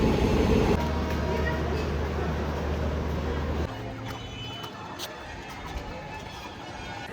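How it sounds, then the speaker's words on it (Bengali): A train pulls into Siliguri railway station with a loud, close mechanical rumble and droning hum that drops off midway, leaving fainter station noise with scattered clanks. "ট্রেন ঢুকে গেছে।"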